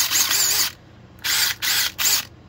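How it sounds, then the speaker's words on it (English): A DeWalt DCF901 12V half-inch cordless impact wrench fires in four short, loud bursts of rattling hammering, one longer followed by three quick ones, close by with no speech. "And then next is the Dewalt DCF 901 12 volt half inch."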